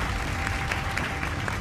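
Several quick hand claps ring out over a steady background hiss, fairly faint and evenly spaced.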